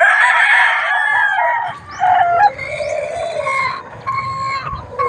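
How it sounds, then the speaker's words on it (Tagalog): Chickens and a rooster in a backyard coop in the morning, with loud nearby crowing and clucking in uneven bursts and no talk. "Ayan ang manukan natin mga backyard."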